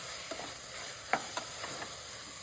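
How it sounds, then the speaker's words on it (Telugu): Coriander and mint being stirred into potato pulao in a pan: a faint, steady sizzle with a few soft scrapes and one sharper clink of the spoon, brief and quiet, with no talking. "కొత్తిమీర, పుదీనాను కూడా వేసుకొని ఒకసారి బాగా కలుపుకోండి"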